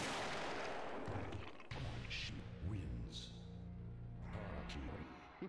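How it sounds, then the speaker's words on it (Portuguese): In the Mortal Kombat video game, a character shoots himself. A loud, sharp gunshot blast opens the moment, followed by fainter impacts and game effects that fade out. "Ele vai dar um tiro nele mesmo?"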